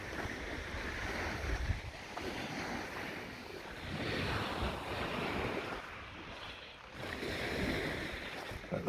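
Sea waves wash onto a beach below East Hill Cliff where seaglass is hunted, a steady, fairly faint surging roar with gentle swells, mixed with wind rumbling on the microphone.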